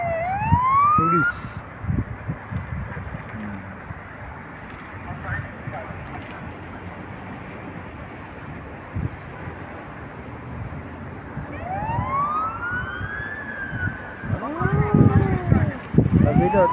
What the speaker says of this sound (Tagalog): Ano yan? Ingay-ingay ng